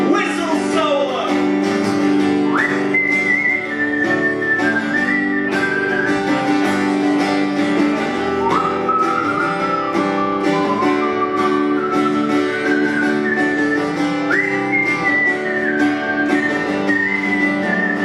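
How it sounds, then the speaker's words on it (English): A solo whistled melody carries on steadily for the whole stretch, loud and close, with sliding pitch rises between notes over a sustained musical backing, no talk. "Whistle solo!"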